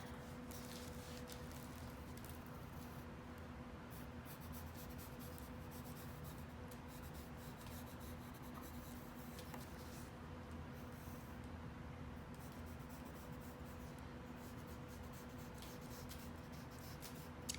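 A pencil or pen draws lines on paper during an art lesson, sketching the hair and shape of a face: faint, steady scratching that runs continuously for about eighteen seconds over a low hum.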